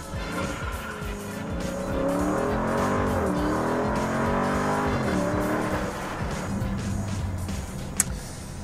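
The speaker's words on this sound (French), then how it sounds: "t'as burné avec les roues avant bloquées" A Dodge Challenger launches from a standstill in a burnout, its engine roaring as the tires squeal and skid loudly nearby, the squeal wavering and then fading. A voice is heard in the background.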